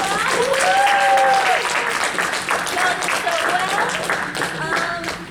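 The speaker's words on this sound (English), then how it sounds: "Let's do one more round of applause." A debate event crowd applauds loudly and steadily, clapping with scattered cheers and whoops throughout.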